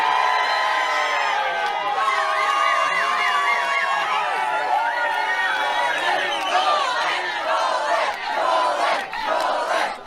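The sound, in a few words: happy crowd cheering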